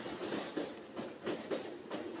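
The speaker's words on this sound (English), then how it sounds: "So now the train is passing through that bridge." A train rolls across a river bridge with a steady, loud rumble and a repeated rhythmic clatter of wheels on the rails, heard up close from inside the coach, with no voices over it.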